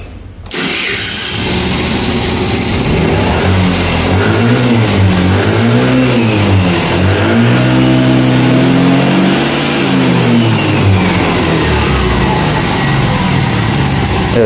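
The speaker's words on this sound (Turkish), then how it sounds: "Marşımıza basıyorum." A repaired motorcycle engine cranks on the electric starter, catches and revs repeatedly in rising and falling sweeps up to about 9000 rpm, loud and close with no talking.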